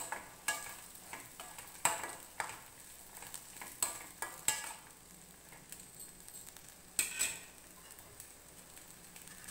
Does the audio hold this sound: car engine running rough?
no